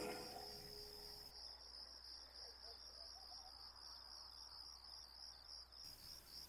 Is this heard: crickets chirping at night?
yes